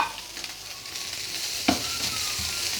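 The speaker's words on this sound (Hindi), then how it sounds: "ज़रा सा सौते करेंगे इसको।" Boiled, shredded chicken sautés in a pan with a steady soft sizzle and occasional scraping stirs, including one sharper clatter partway through; no one speaks.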